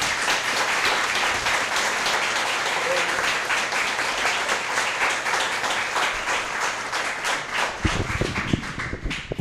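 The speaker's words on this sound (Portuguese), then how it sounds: "Ele merece uma salva de palmas." A church congregation in Mogi das Cruzes applauds during a service, the clapping dense, loud and sustained throughout, with a few heavier thumps near the end.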